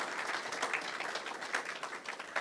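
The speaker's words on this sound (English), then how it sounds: "So please, a round of applause." A round of applause from the audience at an old boys' association annual national conference, broad steady clapping from many hands, moderately loud and sustained without talk.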